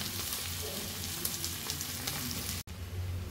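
Pork sizzling and frying in a pan over reduced heat, a steady close crackle and hiss that cuts out briefly near the end and then resumes.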